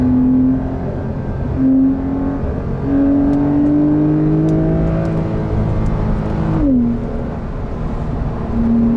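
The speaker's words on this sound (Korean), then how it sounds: "자, 스포츠 모드에 놓고 좀 달려보겠습니다" A Porsche 911 of the 992 generation in sport mode pulls hard up a hill, its engine note climbing steadily through the gears with a brief dip at a shift, heard from inside the cabin and with no talk over it.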